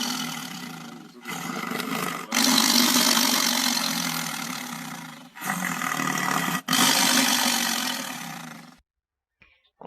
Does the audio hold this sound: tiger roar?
yes